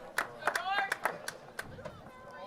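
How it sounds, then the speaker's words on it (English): Falmouth fans at a summer-league baseball game, Falmouth Commodores at Chatham Anglers, clap in a sparse, irregular run of sharp claps with faint cheering and crowd chatter behind, moderately distant. "a few Falmouth fans stick around, and they sure are cheering on hard for their fellow Doors"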